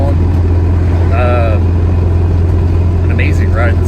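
The engine of a 1962 Buick, revived after 49 years parked, hums steadily from inside the car as it drives on a long road trip, a constant low drone beneath voices talking.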